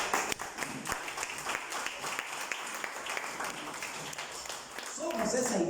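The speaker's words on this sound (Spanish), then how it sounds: "Denle un aplauso a Cristo." Church congregation applauding during a service, scattered clapping that rises into fuller applause, with a voice speaking over it throughout.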